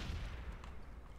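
Gunfire from the video game Call of Duty Modern Warfare 3 in a Domination match on the Village map: a brief, punchy burst of shots with a low boom that fades within about a second.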